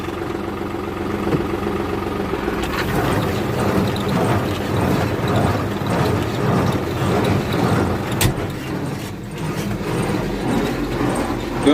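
A New Holland tractor runs a New Holland KB390 baler off the 540 PTO, a steady mid-low engine drone with a continuous mechanical churn, close and even throughout, no talking.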